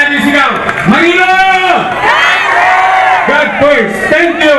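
Large political rally crowd in Manila shouting and cheering together, a loud continuous roar of many voices with rising and falling chanted cries filling the whole stretch.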